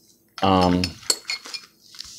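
Pieces of old glass bottle clinking together, a sharp initial chink followed by a few lighter clinks over about two seconds.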